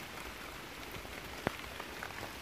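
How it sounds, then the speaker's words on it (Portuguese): Steady rain falls outdoors at an amateur gold-mining site, a soft continuous hiss of drops with a few sharper nearby drips standing out; no one speaks. "Tá chovendo aqui, hein, pessoal."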